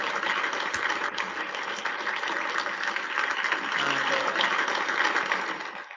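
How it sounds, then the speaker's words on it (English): Audience applause at a student award ceremony, dense and loud clapping sustained evenly throughout, filling the room without any speech over it. "A huge round of applause to you."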